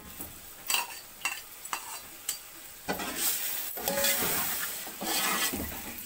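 Onion masala fries with whipped yogurt for mutton pulao, a hissing sizzle under repeated spatula scrapes and stirs that grows louder and denser in the second half.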